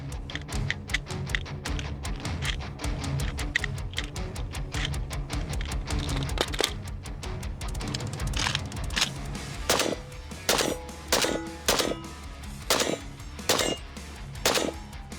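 A cursed AK-style PPSh hybrid gun is fired in rapid strings of automatic shots, with a dense burst followed by separate sharp cracks, close and loud.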